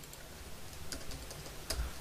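Computer keyboard keys tapped while writing PHP code, a few soft scattered clicks close by over a low steady background hum, with no talking.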